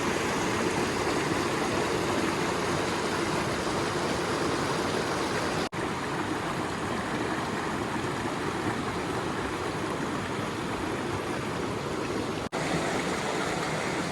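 A waterfall roars nearby as water pours over rocks, a loud, dense, unbroken rush that stays steady throughout with no voices.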